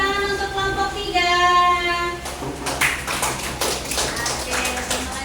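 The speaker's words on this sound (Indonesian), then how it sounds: "Beri tepuk tangan untuk kelompok 3" Classroom applause for a student group, a few seconds of dense clapping from many hands that begins midway and continues, following some voices beforehand.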